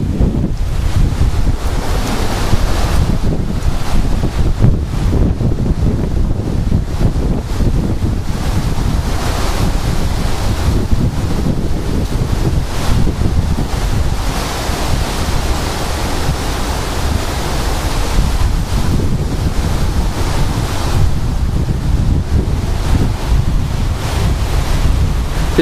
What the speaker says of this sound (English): Listen to these winds.